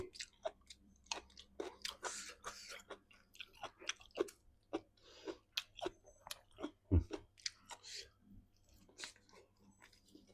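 Close, crisp crunching and chewing of raw vegetables eaten with steamed catfish and chili dip, a steady series of bites and chews with quiet pauses, no clear speech.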